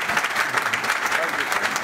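Audience applause at an astronaut event, a brief burst of dense, steady clapping heard up close, with some voices mixed into the crowd noise.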